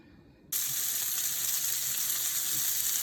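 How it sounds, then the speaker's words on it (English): Green pepper, onion and sausage going into hot oil to brown for a bean dish, bursting into a loud, steady sizzle after a quiet half second and holding that dense frying hiss to the end. "I'm going to brown some of those, saute them in oil"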